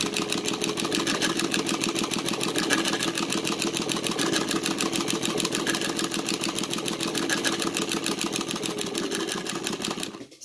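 A Cornely chain stitch embroidery machine sews a fill pattern with Madeira No. 12 rayon thread, running in a steady, fast mechanical whir and rapid clatter for about ten seconds before stopping abruptly.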